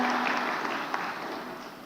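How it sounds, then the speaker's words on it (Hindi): A seated audience at a Pradhan Mantri Awas Yojana housing ceremony claps to welcome a beneficiary, a short, loud, dense burst of applause close by that fades slightly toward the end. "तालियां बजा के स्वागत करो मुरली।"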